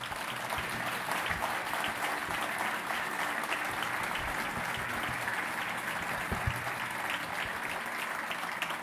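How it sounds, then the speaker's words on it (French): A large audience at a memorial unveiling ceremony applauds steadily for several seconds, a dense, even roar of clapping that sounds somewhat distant and fills the space throughout without talk over it. "que peut-être je peux vous demander à nouveau de saluer de vos acclamations"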